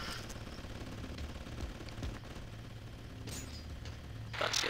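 Gunfire from the Red Faction 2 video game, with bursts of shots and sharp cracks over a constant rumbling background that grows louder at the end, with no talking.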